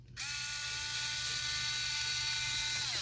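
A whirring power ratchet runs in a motor compartment while backing out four screws, a continuous high mechanical buzz that starts abruptly and holds steady for about three seconds before winding down, close and alone.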